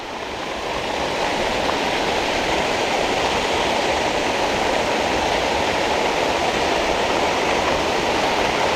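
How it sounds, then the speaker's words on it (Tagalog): Heavy nonstop rain pours down over planted farm rows, a loud, dense and constant roar of falling water with no pauses throughout. "Grabe, walang tigil ang ulan."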